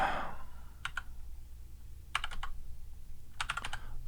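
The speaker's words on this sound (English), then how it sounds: "Typing Command F here." A computer keyboard is typed on in a quiet room, with three short clusters of soft key clicks spaced a second or so apart, near and faint.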